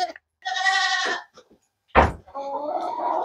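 Goats on a small farm bleat in two loud, wavering calls close by, separated by a sharp knock-like thud and a brief quiet gap.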